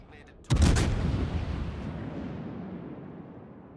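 Naval guns fire a single heavy boom in a warship video game, a sharp blast that rolls into a long fading rumble, with no talking.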